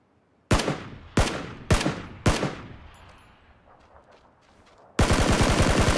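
Four heavy, evenly spaced gunshots in a video game, each with a long echoing decay, then a pause before rapid automatic fire bursts in loud and close.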